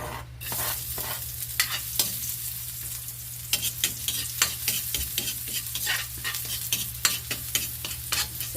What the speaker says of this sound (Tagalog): Okay, mag-isa na naman tayo ng ating sibuyas, bawang.